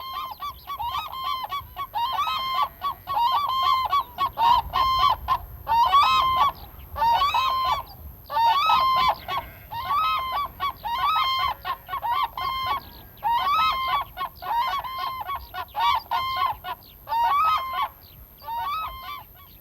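Black-necked cranes in a high valley in Ladakh give courtship calls, a long series of loud, clear, honking trumpets repeated in rhythmic bursts, close and without talk.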